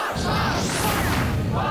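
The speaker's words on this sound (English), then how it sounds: "The crowd's into it now." A tournament crowd roars during a Super Smash Bros. Melee match between Fox and Pit, a dense sustained swell of cheering and shouting close around.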